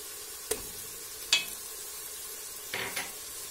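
Tomato paste frying quietly in a pan under a soft, steady sizzle, with a few sharp clinks of a utensil stirring against the pan.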